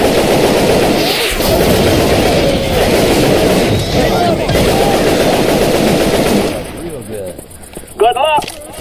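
Dense, sustained automatic gunfire in Left 4 Dead 2 rattles loudly for several seconds, then drops off as a voice speaks over the quieter end.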